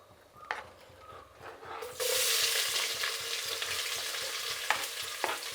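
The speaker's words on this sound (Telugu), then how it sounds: "ఎర్రగడ్డలు కూడా బాగా వేగాలి." Onions go into hot oil with whole garam masala for jackfruit biryani, a quiet sizzle and stirring that bursts into a loud, sustained crackle when they hit the pan, with a few stirring knocks afterward.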